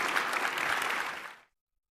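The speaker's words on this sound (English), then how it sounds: "Round of applause for the general, please." Conference audience applauding a speaker, a dense burst of clapping at steady loudness that fades out after about a second and a half, with no talk over it.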